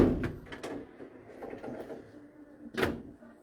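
A drawer of a collection cabinet slides open with a few soft scrapes and clunks, followed by a sharper knock near the end, close and fairly quiet.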